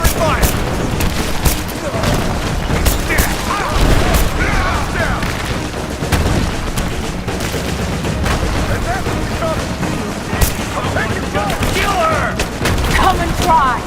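Dense gunfire in Rise of the Tomb Raider rattles without pause, overlapping automatic bursts and booming shots with occasional heavier blasts, loud and close, while voices shout over the fighting.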